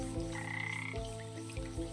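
A frog croaks in a swamp in the video game Wytchwood, giving a repeated low, buzzy call roughly every three-quarters of a second over a soft, steady ambient background.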